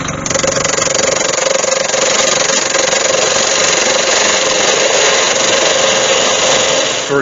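A wood lathe turns a red cedar blank to cut a tenon, giving a loud, steady motor whir with the continuous rough hiss of a tool on spinning wood and no talking.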